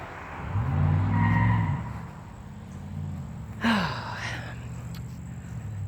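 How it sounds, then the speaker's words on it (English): Road traffic passes near a suburban yard: a vehicle's engine rumble swells and fades, then another car goes by with a brief squeal and whoosh, loud and close. "the traffic is coming through"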